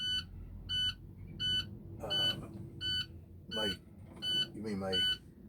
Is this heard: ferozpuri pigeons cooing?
no